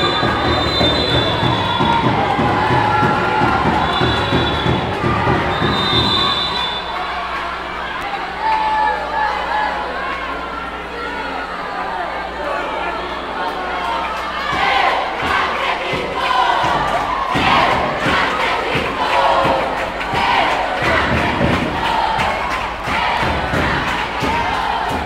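Crowd of school sports fans cheering and chanting at the final of the 2023 school games in Nova Russas, a steady loud roar of many voices with rhythmic clapping, continuous throughout.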